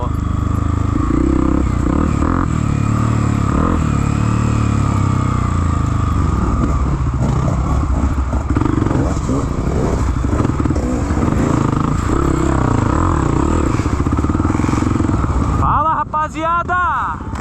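A motorcycle accelerates along a muddy, rainy trail, its engine loud and close, roaring steadily almost throughout, with a brief sharp rev near the end.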